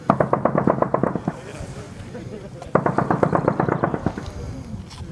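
Marines fire an M2 .50 caliber machine gun at big steel plates, two loud rapid bursts of heavy pounding shots separated by a pause, with voices talking in between.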